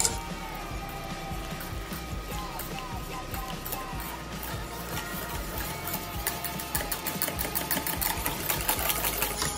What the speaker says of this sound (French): je mélange bien au fouet en veillant à ce qu'il y ait le moins de grumeaux possible